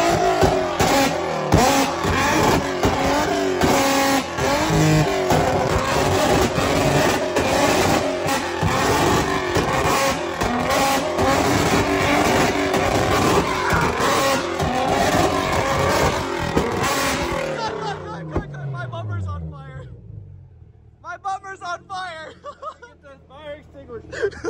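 A Nissan G35 on a burn-map tune revs hard with loud crackling engine noise and excited voices over it, then the engine cuts and fades into quieter sounds near the end.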